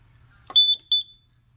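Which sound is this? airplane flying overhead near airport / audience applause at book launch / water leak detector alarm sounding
water leak detector alarm sounding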